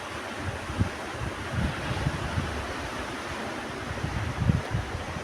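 Sea waves wash steadily onto a Konkan beach on a November morning, a continuous broad roar with soft low thuds of surf, mixed with wind buffeting the microphone and no voices.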